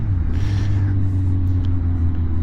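Suzuki GSX-R1000 K2 sport motorcycle with 160 brake horsepower accelerating on the open road, a steady, loud, low engine drone with constant wind rush and no pauses.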